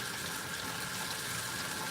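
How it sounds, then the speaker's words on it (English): Hot water runs steadily from a kitchen tap into a sink holding dishes, a continuous broad rushing hiss that stays even and fairly quiet throughout, with no voices. "But you see, you run your hot water on there."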